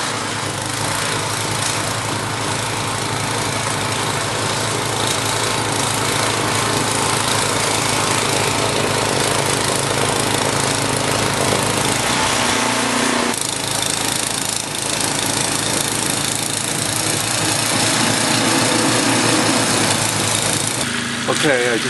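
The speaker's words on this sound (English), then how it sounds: "It's interesting how much better the snowblower works when the auger is actually going around." A snowblower engine roars loudly and continuously while its auger churns through heavy March snow, a dense, unbroken mechanical drone with a brief shift in tone midway.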